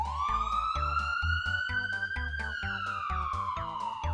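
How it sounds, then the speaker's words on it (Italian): A cartoon fire engine or ambulance siren wails, rising and then slowly falling over a rhythmic, thumping musical beat. "Sono i pompieri? O l'ambulanza?"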